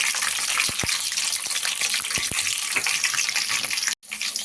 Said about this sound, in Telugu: ఉల్లిపాయలు బాగా ఫ్రై చేసేసుకోవాలి